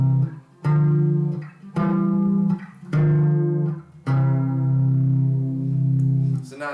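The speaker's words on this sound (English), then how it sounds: "in this case, a major third harmony" A major-third harmony, an E stacked above a C, rings out as sustained tonal chords, sounded about four times in a row with brief gaps between them and no talking.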